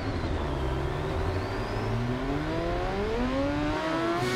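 A motorcycle engine in the video game Ride 2 revs up steadily, its pitch climbing and whining higher over several seconds, loud and close with no voices.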